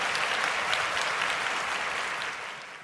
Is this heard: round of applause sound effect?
yes